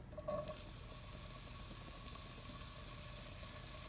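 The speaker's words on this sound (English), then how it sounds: "So we're going to cook our other vegetables. So I'm going to start with my zucchini." Zucchini fries in olive oil in a pan, giving a soft, steady sizzle with faint crackles throughout, heard close but quiet, with no talking.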